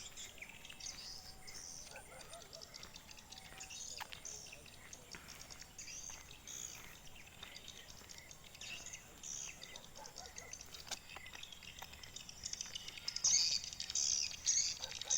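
Swiftlets calling around Bukit Tirig in Sandakan, faint high chirps and twitters scattered over a quiet background with insect hum, growing a little busier toward the end.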